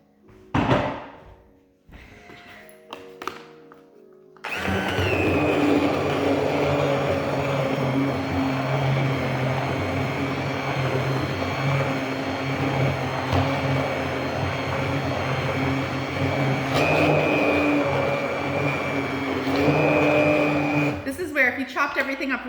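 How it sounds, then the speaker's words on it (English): A blender purees tomato soup made from finely chopped vegetables in a cast iron pot. A few thumps and clatters come first, then a loud, steady motor whir runs close by until the end. "There's not a whole lot of blending you have to do."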